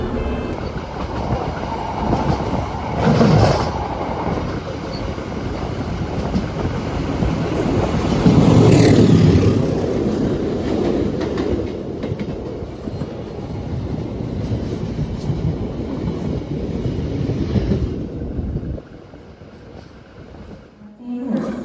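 The KA Malabar economy train pulls into Kertosono station in Indonesia with a loud, continuous rumble of wheels and carriages, rhythmic clacking over rail joints and a high squeal near the end as it slows.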